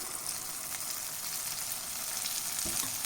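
Idli batter mixed with dissolved jaggery sizzles after being poured into hot oil, a soft, even frying hiss that stays low and constant, with a small clunk near the end.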